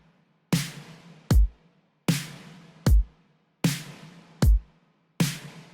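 A pop drum pattern alternating a bright, roomy snare-like hit with a deep, punchy kick, seven strikes in a steady loop, loud and up close with no voices.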